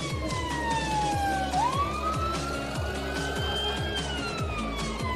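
Ambulance siren wailing at full volume in the Emergency Ambulance Simulator game, a continuous rising and falling tone layered over a low engine rumble and rhythmic horn-like pulses.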